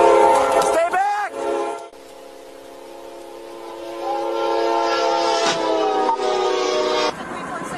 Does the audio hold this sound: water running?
no